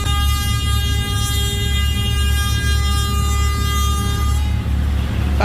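A passenger launch's loud, sustained deep horn blares continuously for several seconds before cutting off, over a heavy engine rumble, on a river in Bangladesh.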